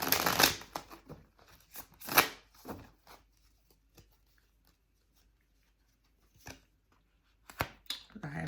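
Tarot cards being shuffled by hand, close and crisp, in several riffling bursts with quiet pauses between them, the last bursts coming after a long gap.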